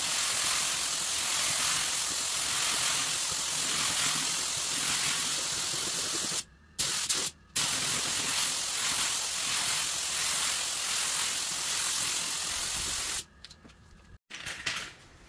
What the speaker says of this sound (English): so I sprayed several layers of this candy paint over it